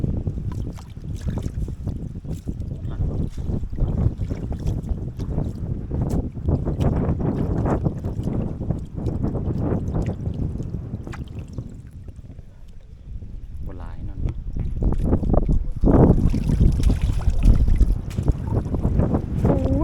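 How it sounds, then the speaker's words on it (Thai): Gusty wind buffets the microphone continuously, with people talking over it outdoors, growing rougher toward the end. "ลมแรงเหมือนฝนจะตก"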